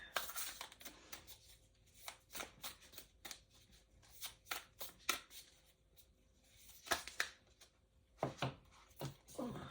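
Tarot cards being shuffled close by during a collective reading, in repeated short riffling, slapping bursts separated by brief pauses, with no talking.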